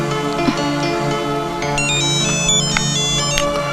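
An electronic phone ringtone plays a bright, repeating melody, loud and close, without any talking.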